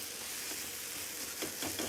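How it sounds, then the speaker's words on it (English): Scrambled eggs sizzle in a pan, a steady hissing fry with a few soft scraping clicks near the end and no talking. "These eggs are scrambled and done."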